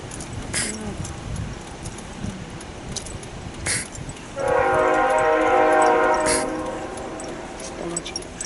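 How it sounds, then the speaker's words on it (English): Train horn blasting loud and sustained for a couple of seconds as a train passes, over rumbling outdoor noise with a few scattered clanks. "Oh, you hear the train."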